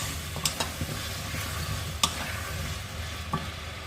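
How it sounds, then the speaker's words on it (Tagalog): Chopped potatoes, carrots, onion and tomato fry in a pan for a vegetable cream soup, a steady sizzle broken by a few sharp utensil clicks and stirring knocks, close and moderately loud with no talking. "Ilagay na natin ang chopped potatoes, carrots, onion, tomato. Fry lang natin mga karosas."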